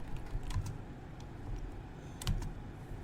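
A computer keyboard is typed on during a Windows 11 search, giving a few soft, scattered key taps at close range, with no talk.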